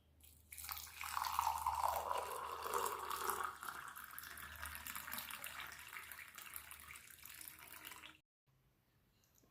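Hot water being poured over green tea leaves, a steady close pour running for several seconds before stopping abruptly, followed by near silence.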